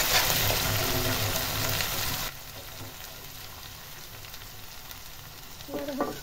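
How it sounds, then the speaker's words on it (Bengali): Chili paste frying in a pan on a stove for a loitta fish dish, a loud hissing sizzle that suddenly drops to a quieter crackle partway through, with a brief clink near the end. "ভালো করে চুলের উপরে ভেজে নিতে হবে।"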